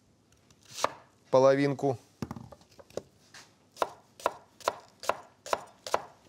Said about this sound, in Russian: Мелко режем.